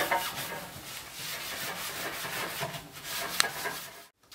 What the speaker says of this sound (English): now scrub all the individual little parts from the ovens